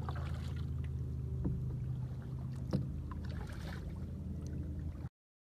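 Water laps and sloshes steadily around a small boat, with occasional splashes and knocks over a low rumbling background, no voices.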